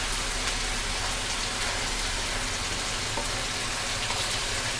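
Onion paste fries in a pan for a fish curry with green banana, giving a steady, dense, close sizzle that holds evenly throughout with no talking.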